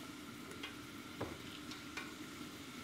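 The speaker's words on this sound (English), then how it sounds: "These are the half-cooked chips, and we're going to put half of them in to cook for 3 minutes or so." Half-cooked chips frying in hot oil, a faint, steady sizzling hiss with a few soft scattered pops and ticks, no talking.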